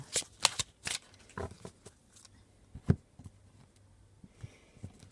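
A tarot deck, the Gilded Reverie Lenormand, is cut and handled, giving several crisp card riffles and slaps close by in quiet, with soft rustles between them and no talking.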